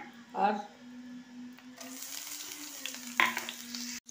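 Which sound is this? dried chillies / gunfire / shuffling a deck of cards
dried chillies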